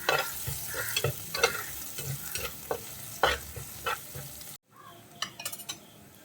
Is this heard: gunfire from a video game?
no